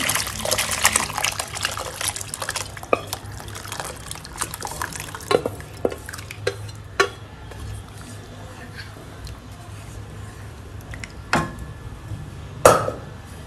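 Cooked lentils poured and stirred into a pot with drumstick and pumpkin for sambar, heard as wet, liquid sloshing with scattered clinks and scrapes of a utensil against the pot, close and intermittent.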